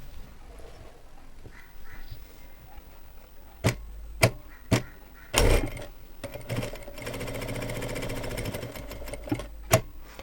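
A sewing machine stitches tucks on a blouse in short separate bursts with pauses between, ending in a longer run of steady rapid stitching.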